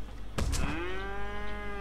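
Inflatable bouncing cow, the Inflate-A-Bull in the Fortnite video game, letting out a single drawn-out bovine moo after a couple of soft thumps, close and clear with no talking.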